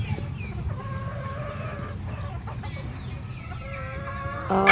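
Dan Gray gamefowl chickens cluck and crow in a farm yard, several birds sounding at moderate distance over a low background hum, with one louder crow near the end.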